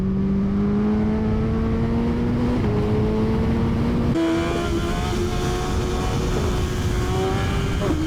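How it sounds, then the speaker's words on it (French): A Suzuki Hayabusa motorcycle accelerates steadily, its engine note climbing through a couple of gear changes with loud, continuous rumble and wind noise as heard from the rider's position. "accélère Angie, les gens ils ont envie de te voir rouler Angie, accélère"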